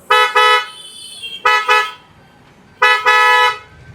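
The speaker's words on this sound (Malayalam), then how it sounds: "ഇതുപോലെയാണ് ഹോണിൻ്റെ ഒരു സൗണ്ട് വരുന്നത്" A car horn honks three times, each blast short and loud with a brief double pulse, separated by pauses.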